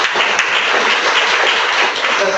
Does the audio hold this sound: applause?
yes